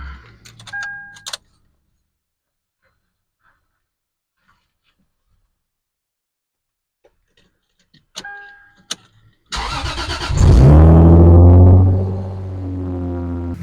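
A Lexus IS300 car is started after battery work: keys jangle and click, then after a silent pause more clicks lead into the engine cranking and catching, revving up loudly before settling into a steady idle.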